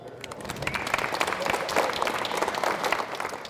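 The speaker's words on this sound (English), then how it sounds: "So we really, really owe him a great round of applause." An audience at a Lotus car gathering breaks into applause, the clapping swelling from a lighter start into a full, steady round that carries on to the end.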